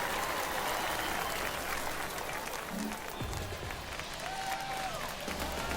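Crowd applause fills a ballpark on opening day in an MLB The Show baseball game, a steady, dense roar of clapping and cheering that holds throughout with no voices over it.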